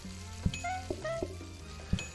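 A cooking hob sizzles in the video game PlateUp, a soft, quiet frying hiss punctuated by short tonal game blips and a few clicks, with no talking.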